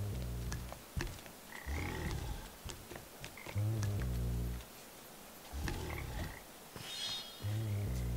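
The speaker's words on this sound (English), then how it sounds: "Get that frog." A frog in the video game Papo & Yo gives repeated loud, deep croaking roars in bursts, close and prominent with short pauses between calls.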